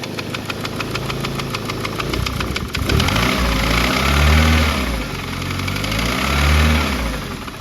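An Escort Cosworth replica engine's internal noise, sped up, giving a dense mechanical clatter under a throbbing low hum that swells and falls in slow waves, loud and close with no speech.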